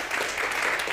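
Audience applause for children taking part in a traditional community event, a dense, steady wash of clapping filling the whole moment at moderate level with no voice over it.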